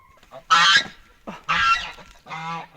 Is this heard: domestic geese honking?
yes